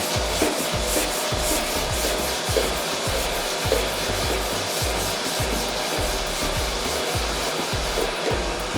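Steady back-and-forth sanding strokes rasp across primer on a 1971 Camaro body panel, close up and continuous, with a regular rhythmic pulse and no talking.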